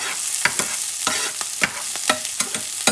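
Lamb chop stew being stirred in a pan, with close, loud repeated scraping strokes about every half second over a continuous bright frying sizzle.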